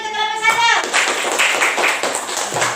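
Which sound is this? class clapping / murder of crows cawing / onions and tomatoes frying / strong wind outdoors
class clapping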